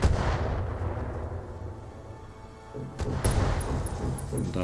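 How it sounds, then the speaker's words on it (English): Explosions and artillery fire in the mech combat video game Battletech, a sustained barrage of heavy booming blasts and gunfire, loud and dense throughout, with sharper detonations near the end. "That's some explosions going."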